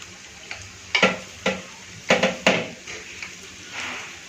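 Dakor gota fritters fry in a pan. A soft continuous sizzle runs underneath sharp clicks and scrapes, a few clustered close together, as the fritters are stirred and turned. Nobody speaks.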